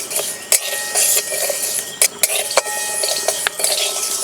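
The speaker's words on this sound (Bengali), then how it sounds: "শুকনো খোলায় মুগ ডাল ভেজে নেব।" Moong dal dry roasting in an ungreased pan as a utensil stirs and scrapes it steadily, with a few sharper knocks against the metal scattered through the rustling grains.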